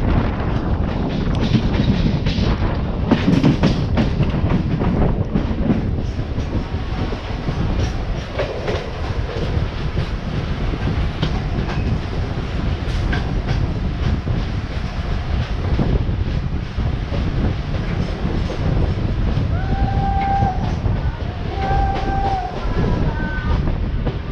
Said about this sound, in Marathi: चला आपली ह्या साईडने सुटली ट्रेन रोहा चिपळूण